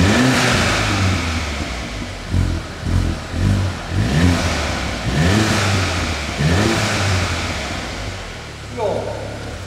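Audi A1 fitted with a Miltec aftermarket exhaust system revving repeatedly, a series of rising engine blips close by over a steady idle rumble.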